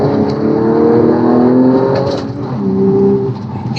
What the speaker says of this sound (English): you didn't get all the crackles and pops from the exhaust